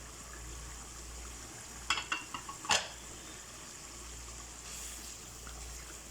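A low, steady frying hiss of masala spices in a pan, with a brief cluster of scraping clatters partway through as a utensil stirs; no voices.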